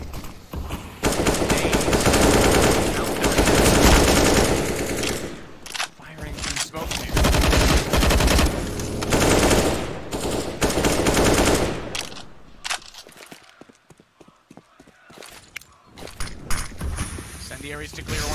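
Rapid automatic gunfire from Counter-Strike: Global Offensive during a professional ESL Major match, in loud sustained bursts with short pauses, thinning out toward the end, while a commentator's voice runs beneath it.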